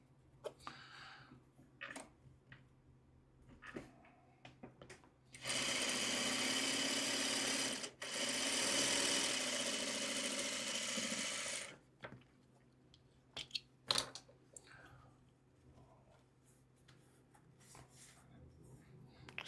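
A sewing machine stitches pieces of fabric in a steady whirring burst lasting about six seconds. Quiet handling noises and brief talk come before and after it.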